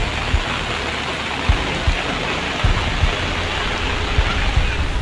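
A heavy downpour lashes a flooded city, Nagpur, with a dense, constant roaring hiss broken by occasional dull thuds.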